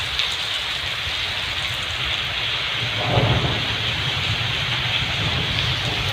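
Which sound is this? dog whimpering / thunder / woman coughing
thunder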